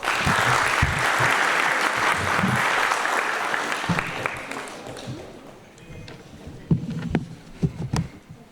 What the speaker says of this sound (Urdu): میں آپ کی پرزور تالیوں کی رونق میں دعوت دیتی ہوں اسلم شاہد